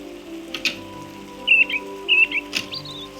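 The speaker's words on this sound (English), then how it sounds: "Oh, it's raining." Rain falls steadily in the farming video game Moonlight Peaks, a soft, even patter running the whole time beneath a low hum, with a few bright, short chirping whistles popping up over it.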